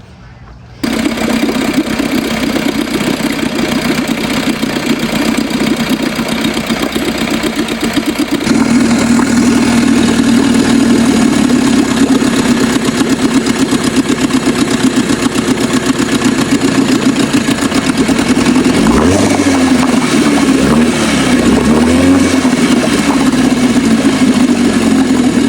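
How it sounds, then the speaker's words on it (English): A 1950s Scott Atwater barn-find outboard motor starts and runs at a loud, steady close drone, settling to a lower, even tone partway through, with faint shifts in pitch near the end. "I had this motor running really good"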